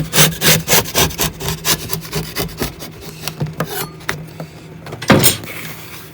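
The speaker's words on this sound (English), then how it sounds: "Last bit now, scraping this cork off." Cork being scraped off a model railway baseboard, a run of close, loud rasping strokes in quick rhythm that slow and fade, then one final hard scrape.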